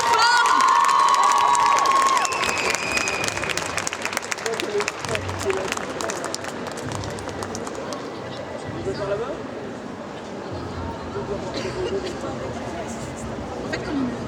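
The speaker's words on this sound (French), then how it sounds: "On applaudit encore très très très fort." A crowd at a Japan pop show contest in Mons applauds and cheers loudly, with a burst of shouting and whistles up front, then continuous clapping and scattered cries that carry on over background voices.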